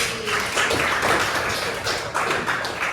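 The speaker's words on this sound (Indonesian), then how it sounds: "Tepuk tangan buat Fakih." A group claps together during a training session for school guidance counsellors, a steady, dense patter of hands filling the room at moderate loudness with no talk over it.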